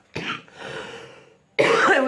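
A few harsh, close coughs in quick succession, one drawn out and raspy, separated by brief silences.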